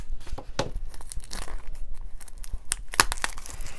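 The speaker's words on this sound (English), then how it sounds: "Take the plastic off of it." Plastic wrapping is crinkled and torn off a foam ball for a Valentine's Day topiary craft, a close run of irregular crackling bursts with sharp peaks near the end.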